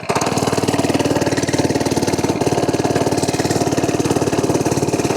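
FRP GMB100 mini bike engine running after a pull start, a close, loud, rapid and even single-cylinder putter that holds steady throughout.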